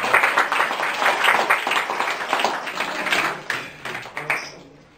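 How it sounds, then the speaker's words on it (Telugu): A church congregation claps together in praise, a dense sustained burst of many hands that holds steady and then tapers off near the end. "చప్పట్లు కొట్టి ప్రభుని కనపరచుదాం"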